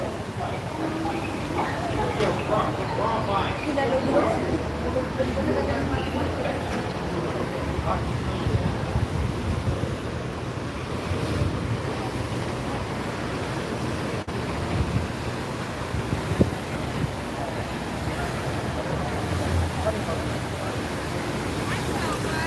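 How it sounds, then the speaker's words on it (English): Outdoor fountain at Lincoln Center splashing steadily and continuously at close range, a dense broadband water rush with some wind buffeting on the microphone throughout. "I'm mesmerized and hypnotized by the fountain, by the water."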